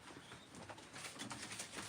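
In a Turkish fancier's pigeon loft, white domestic pigeons give a faint, soft cooing under a low, steady background hiss.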